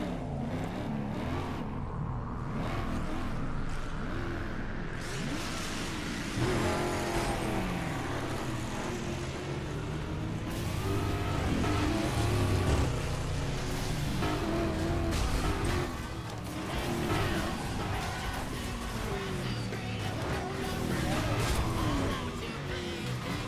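Car driving through Burnout Paradise Remastered toward the Naval Yard, with a steady engine drone, shifting revs and game music or effects throughout, and voices talking over parts of it.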